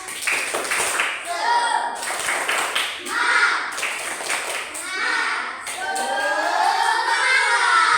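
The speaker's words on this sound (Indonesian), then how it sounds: "Kalau senang kita tepuk semangat dulu" A group of children clapping together in a quick, patterned rhythm, with young voices chanting along over the claps, lively and fairly close.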